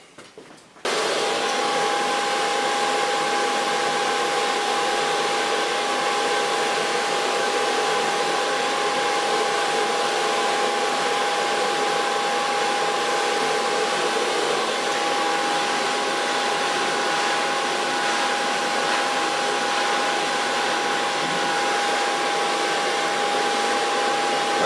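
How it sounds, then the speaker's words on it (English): A hair dryer blows steadily and loudly throughout while hair is blow-dried with a medium-large round brush, starting at the front, in a salon cutting a long bob into a pixie; a brief start at the beginning, then continuous airflow. "now I'm gonna blow dry the hairs with a medium large round brush, starting in the front."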